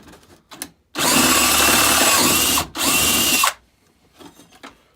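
A Milwaukee drill spins a bit from a 10-piece set in two loud, close bursts, the first about two seconds and the second shorter after a brief gap, with quieter handling clicks before and after.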